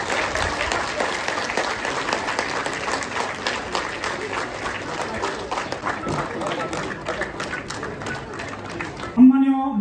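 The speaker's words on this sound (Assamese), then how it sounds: "সম্মানীয় মুখ্য সদস্য তুলিৰাম মোহন ডাঙৰীয়াৰ কাৰণে সকলোৱে হাত চাপৰি মাৰিব" Sustained applause from the audience at a cultural heritage workshop, dense and steady clapping filling the room for most of the stretch before cutting off sharply near the end, where a voice briefly comes in.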